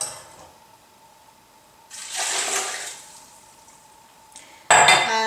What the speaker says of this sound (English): And to this we need to add 8 cups of water.